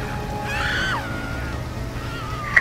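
In Left 4 Dead 2 a shrill, wavering scream rises and then slides downward, moderately loud over muffled game ambience, followed by a fainter drawn-out wail near the end.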